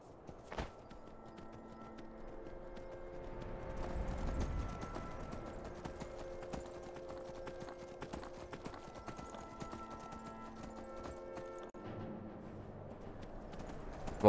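A horse's hooves clip-clop in a steady walking rhythm across terrain in the video game Skyrim, faint and close, with soft game ambience and occasional tones beneath.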